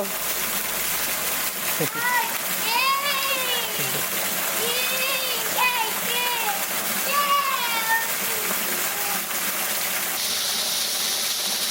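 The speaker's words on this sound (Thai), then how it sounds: "โห เห็นน้ำตกเปล่า" Rushing water from a waterfall pours in a steady, constant wash, with a child and an adult talking over it.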